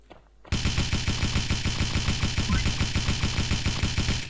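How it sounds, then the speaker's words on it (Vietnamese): Rapid automatic gunfire from the Pixel Gun mobile shooter game, a loud, dense stream of evenly spaced shots that starts abruptly and runs continuously without pause. "Thằng này nó bắn một quả đạn đuổi ạ."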